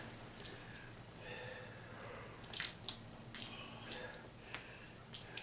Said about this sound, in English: I add a little more water to it.